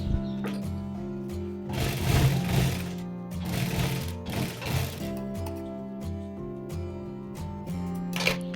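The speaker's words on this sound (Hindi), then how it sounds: "तो यहाँ पर दोनों साइड में हमें इस तरह से सिलाई लगाना स्टार्ट करना है।" A sewing machine stitches salwar fabric in quick whirring bursts of rapid needle clatter, starting and stopping several times, close and fairly quiet, over a faint steady hum.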